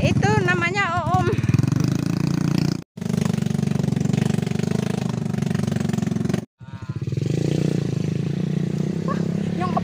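A motorcycle engine on an extreme wooden motorcycle taxi in Indonesia chugs loudly and steadily up close, with two brief cutouts, and a whistle-like tone rises and falls briefly at the start.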